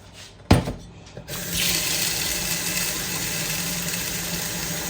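Tap water running into a kitchen sink or vessel to soak lentils for batter, a clunk of the faucet opening, then a steady, fairly close rushing stream that continues evenly to the end.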